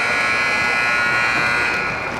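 An end-of-period buzzer at a high school hockey game, Upper Cape Tech at Wareham/Carver, blares as one loud, continuous electronic drone that holds steady and barely fades, with faint crowd or announcer sound beneath it.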